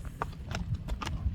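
Hooves of a dark bay horse clip-clop at a steady walking pace, five or six crisp, close strikes spaced evenly over the ground.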